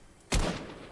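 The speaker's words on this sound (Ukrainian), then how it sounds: "У мене стріляють, я хілюсь." A single sharp gunshot-like burst from Fortnite gameplay rings out, followed by a brief decaying tail over quiet background.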